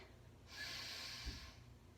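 Slow, deep breath drawn in through the nose during a yoga practice, a soft rushing inhale lasting about a second, close and quiet against a low room hum.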